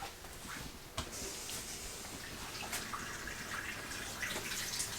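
Water running from a leaking bathroom faucet in an RV, a steady faint hiss of flow into the sink with a few small clicks.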